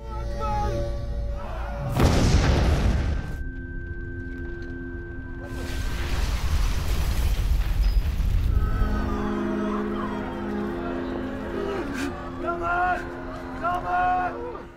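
A suicide bomb vest goes off in a crowded film scene: a sudden loud, booming explosion surges in around the second mark and rumbles on, followed by more low blasts and debris noise, with screaming and a musical score underneath.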